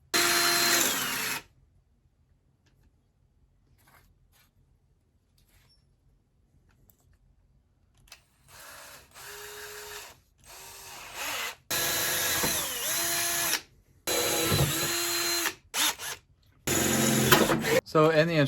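Power drill boring 1/4 inch holes in a Jeep XJ body while fitting Bushwacker flat fenders, heard in several loud bursts of whining drilling separated by pauses, with a brief burst at the start followed by a long quiet gap.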